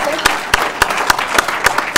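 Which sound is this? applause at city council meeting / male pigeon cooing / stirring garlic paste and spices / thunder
applause at city council meeting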